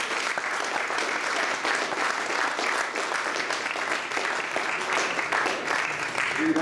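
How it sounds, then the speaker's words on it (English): Sustained audience applause at a House of Commons event in London honoring a Pakistani tennis star, a thick, steady patter of many hands clapping at moderate volume throughout, with no break. "I think a round of applause for those people."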